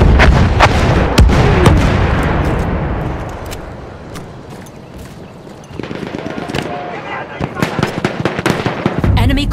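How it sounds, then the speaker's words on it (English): Artillery fire in the video game Battlefield 1 booms loudly and repeatedly, with heavy blasts and sharp cracking reports piling over one another, easing briefly before another volley of quicker hits. "Enemy coordinates have been sent to our artillery."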